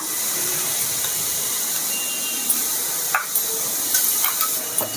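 Ginger-garlic paste fries in a pan with a steady, bright hiss and sizzle, joined by a few light clicks and scrapes of stirring near the end, with no talk.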